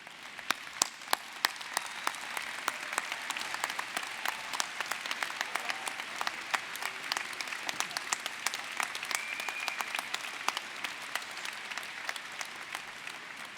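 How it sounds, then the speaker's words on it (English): At a college convocation ceremony, the audience rises and applauds, many distinct claps blending into a steady, even wash of applause from a large hall. "Would you all rise and give them an enthusiastic round of applause?"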